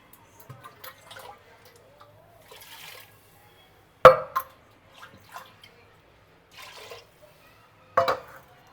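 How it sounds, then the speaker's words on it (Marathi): Dal lentils rinsed in water in a home kitchen make scattered soft drips and a few sharper sloshes and splashes, quiet and sparse with pauses between them. "डाळ पण स्वच्छ धुवून घेते."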